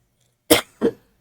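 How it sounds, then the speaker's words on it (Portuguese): Two sharp, close coughs in quick succession, followed by a faint third sound, in an otherwise quiet room. "Essa tosse não tá fácil."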